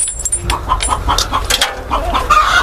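Curly-feathered chickens in black, white and multicoloured plumage clucking close by, a busy run of short repeated calls and squawks overlapping one another.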